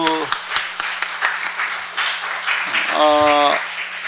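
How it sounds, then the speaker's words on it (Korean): Church congregation applauding during a Sunday morning worship service, broadband clapping running steadily throughout with voices mixed in and a brief sung or spoken tone near the end. "박수"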